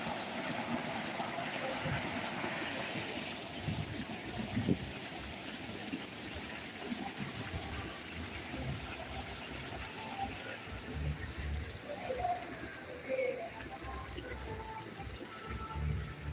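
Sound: artificial waterfall in a grotto

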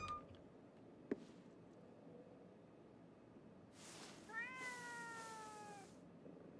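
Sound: cat meowing in video game Ghostwire Tokyo

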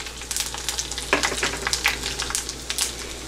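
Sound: curry leaves and dry chilies frying

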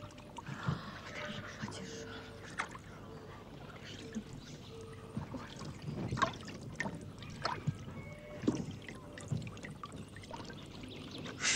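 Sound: water poured while washing with soap

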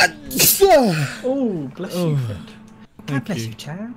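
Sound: big sneeze

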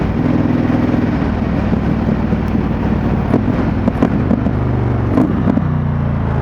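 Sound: motorcycle engine running

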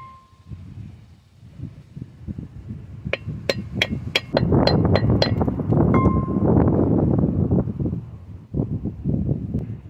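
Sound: tapping a Ford van front wheel bearing race into place

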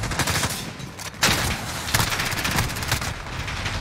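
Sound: gunfire shooting through barrel cracks in Modern Warfare video game

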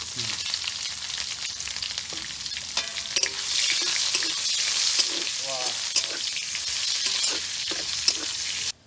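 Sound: bay leaf, cumin and onion frying in oil

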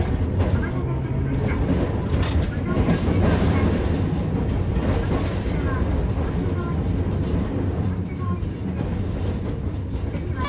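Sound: tram wheels clattering over rail crossing

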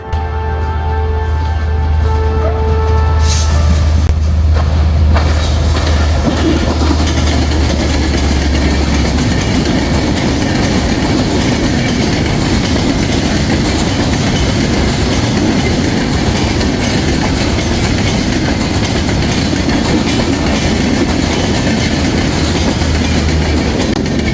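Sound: Panchagarh Express passenger train passing on railway line at Hili border

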